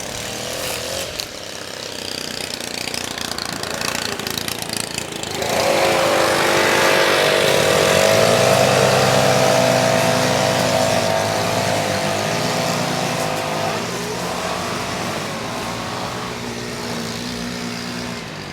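Landscaping machinery roars near a street in Miami Beach, a loud continuous engine drone like a leaf blower or trimmer that rises sharply partway through and holds steady, with shifting pitch and outdoor background noise.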